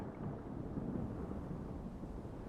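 Low rumbling thunder mixed with blowing wind in a tabletop role-play scene, a steady, muffled roar that holds at moderate loudness for the whole stretch.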